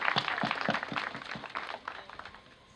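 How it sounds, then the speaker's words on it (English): Scattered hand claps from a small group at a university graduation ceremony, fairly close, irregular and thinning toward the end, with no one speaking. "Can we please applaud for the graduates?"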